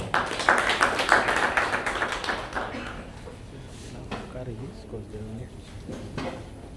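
Audience applause at a business incubator project launch, a loud round of clapping that fades over about three seconds, followed by someone speaking over quieter room sound.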